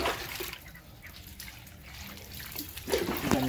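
Tap water runs for bathing in a home bathroom, a steady moderate splash and trickle that swells louder near the end.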